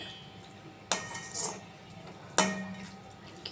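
A cooking pot of mango pachadi is stirred with a metal spoon, producing two bright clinks against the pot about a second and a half apart, with soft shuffling between them in an otherwise quiet kitchen.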